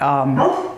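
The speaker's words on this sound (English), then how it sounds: "That's my dog again. Sorry about that." A single short, loud dog bark, close by and harmonic, lasting under a second with no talking.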